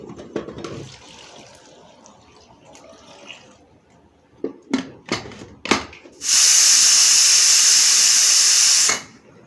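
Cassava boils in a pot of water on the stove: a few short splashy bursts, then a loud, continuous steam hiss lasting about three seconds before cutting off.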